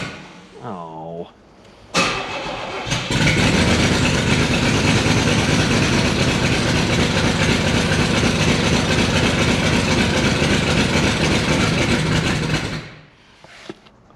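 A 1980s project car engine catches and runs at a rough idle, a loud, steady rumble lasting about ten seconds before dying away, with a brief voice just before it starts.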